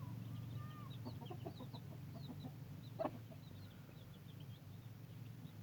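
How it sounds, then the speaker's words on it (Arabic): Chicks and chickens cluck and cheep softly nearby, with scattered high peeps and low clucks over a steady background hum and one sharp brief knock midway. "كتكوك فريخ دجاج"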